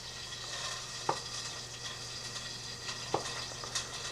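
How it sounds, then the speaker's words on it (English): Pork searing in a frying pan gives a steady close sizzle and hiss, with a couple of faint clinks or taps over it and no talk. "I guess I'm going to sear the pork"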